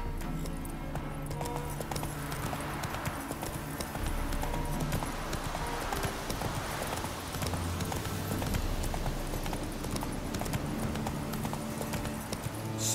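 A ridden horse's hooves clip-clop in a steady, close, even rhythm throughout, from the video game The Witcher 3: Wild Hunt.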